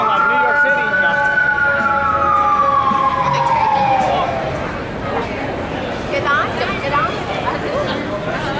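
Emergency vehicle siren wails through a busy Hollywood street, a loud rising-and-falling tone for several seconds that fades away, leaving dense traffic and crowd chatter.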